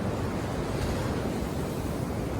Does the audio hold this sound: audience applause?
no